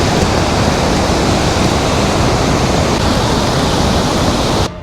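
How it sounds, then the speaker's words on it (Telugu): A Himalayan waterfall pours down in a steady, dense roar of rushing water that fills the whole moment at close range and then cuts off abruptly just before the end. "ఇప్పుడు దాకా మనం చూసిన వాటర్ ఫాల్స్లో ఇదే హైయెస్ట్"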